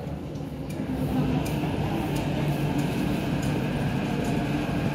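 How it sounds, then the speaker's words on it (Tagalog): A Hong Kong MTR train pulls into a station with a steady, loud rumble and rolling wheel noise that swells slightly as it arrives and continues evenly throughout, with no voices. "So, andyan na yung tren."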